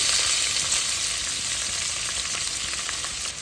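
Cardamom, cinnamon and cashews fry in a spoonful of oil, a steady, close, crackling sizzle that continues throughout with no voices.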